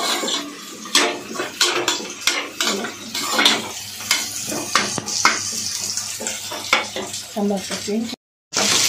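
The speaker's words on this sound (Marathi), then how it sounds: "मुशी आपली मस्तपैकी फ्राय झालेली आहे" Mushi shark fish frying in a pan for biryani, a loud continuous sizzle with crackling spatters and clattering of the pan and utensils, a voice speaking briefly under it.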